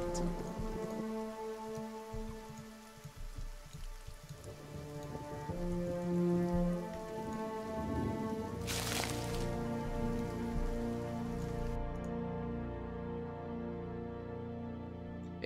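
Steady rain in the video game Pillars of Eternity, a continuous patter of falling drops at moderate level with a low rumble beneath and a brief louder burst partway through, with no talking.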